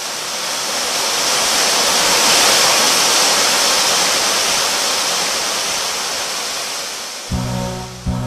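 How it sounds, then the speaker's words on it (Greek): Steady, loud roar of a waterfall plunging from a great height onto wild, jagged rocks, a continuous broadband rush that swells slightly before a brief change near the end. "το νερό πέφτοντας από τόσο μεγάλο ύψος διαλύεται σε κομμάτια και σκοτώνεται"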